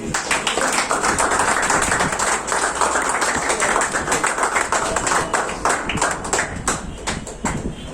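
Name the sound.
audience clapping at a seminar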